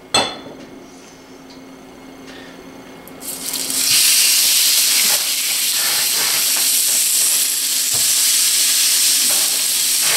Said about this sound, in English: you heat a little grill like this, you put just a touch of olive oil along the pineapple.